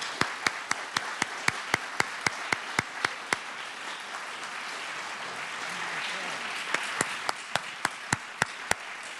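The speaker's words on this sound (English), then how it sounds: "Let's applaud both our candidates." An audience at a state representative candidates' debate gives a round of applause. Sharp, distinct claps from nearby hands stand out over a softer wash of wider clapping that swells in the middle.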